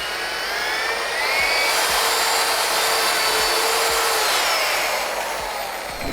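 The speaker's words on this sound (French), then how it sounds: "je viens mélanger donc, avec un malaxeur électrique pour éviter d'avoir des grumeaux dans le produit" An electric paddle mixer whirs loudly and steadily close by as powder is mixed into water to keep out lumps, its pitch rising slightly partway through.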